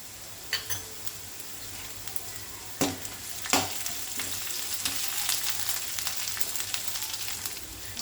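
Ginger garlic paste frying in a pan with onion, green chilli and curry leaves, a steady close sizzle with sharp clicks and scrapes of a spoon against the metal.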